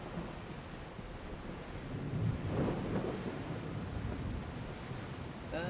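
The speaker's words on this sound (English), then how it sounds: "the storm is crazy at the moment" A thunderstorm at sea in Assassin's Creed Odyssey, with steady rain and surf hiss, rolling wind noise and a swelling thunder rumble in the middle, continuous and fairly loud.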